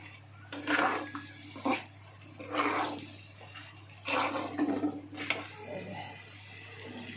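Water poured into a cooking pot in several separate bursts, splashing and gushing for a second or two each with short pauses between, fairly close.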